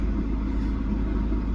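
Car engine running at idle after being started, a steady low rumble that stays even and close throughout.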